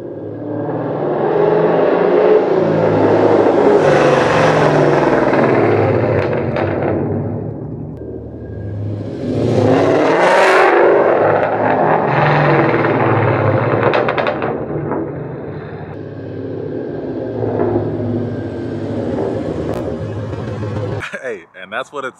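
Loud, sustained exhaust rumble from a 2011-2014 Ford Mustang fitted with Speedmaster headers, mid pipe and Flowmaster mufflers, surging in two long revs with a crackling, popping edge, then settling to a steady idle before cutting off.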